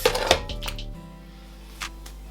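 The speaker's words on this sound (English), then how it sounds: "In here goes our meat" Chicken pieces tipped into a cooking pot for Ghanaian groundnut soup, a few close clattering knocks of meat and utensil against the pot at the start, then quiet with one later soft clink.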